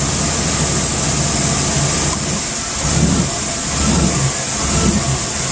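A car engine runs near and loud as its mass airflow sensor is plugged back in, a steady drone with a few uneven surges and dips in the rumble, no speech.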